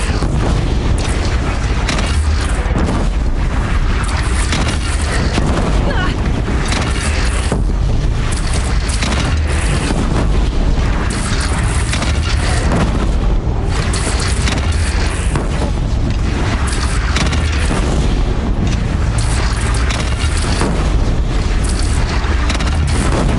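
Cannon fire and explosions in Horizon Zero Dawn battle: a constant loud, dense roar of booms and blasts with heavy low rumble, no break in the din.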